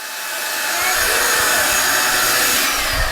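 A vacuum cleaner runs steadily and loudly, its motor whine rising to full speed within the first second and holding a constant high-pitched roar with no talk.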